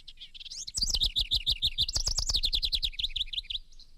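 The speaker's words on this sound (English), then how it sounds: "That's one loud house wren." A single house wren sings one loud, close, rapid bubbling song, a fast series of high chattering notes lasting a few seconds.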